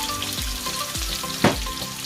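Large-cut onions sauté in cooking oil with a steady crackling sizzle and one brief scraping stir midway, heard close and alone.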